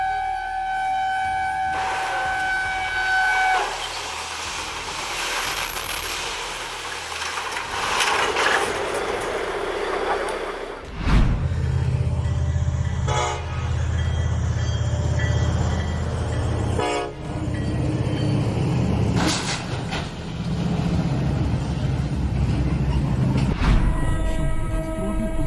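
A train approaches a level crossing in Poland with a malfunctioning signal, sounding repeated horn blasts as its rumble swells and passes close by, roaring loudly through the second half.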